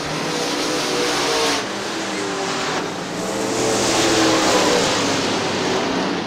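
Super late model race cars roar around Crystal Motor Speedway in Crystal, Michigan, several engines droning loudly together down the back straight, swelling and fading as the pack passes, with steady high-revving intensity throughout.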